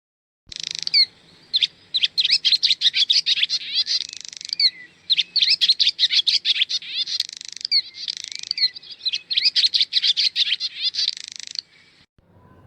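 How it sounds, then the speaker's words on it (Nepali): A swallow calling in rapid bursts of chattering, twittering notes, repeated almost continuously in several long phrases with brief pauses, clear and close against a quiet background. "गौँथली"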